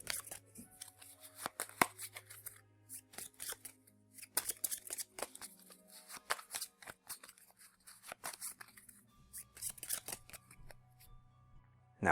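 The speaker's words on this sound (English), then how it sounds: "Shuffle this up." A deck of Dark Souls board game cards is shuffled by hand, with quiet, close papery riffles and flicks repeating in irregular bursts over about twelve seconds, with no voices.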